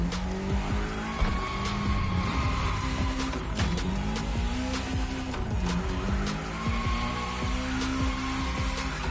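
A car in a racing video game drifts with a loud, continuous engine whine that rises and falls, tires squealing repeatedly through the slides, with no talk over it.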